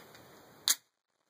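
A single sharp shot from a Glock 17 fitted with a Lone Wolf threaded barrel cracks out at an outdoor range after a low background hiss, then quickly dies away to silence.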